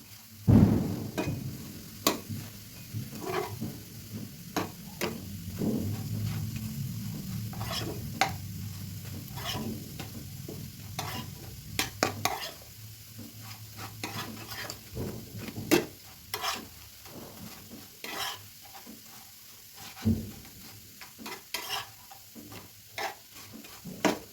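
Besan-battered bread fries in oil and is turned over and over until crisp, a continuous sizzle broken by repeated sharp scrapes and clinks of the utensil against the pan, close and without talk.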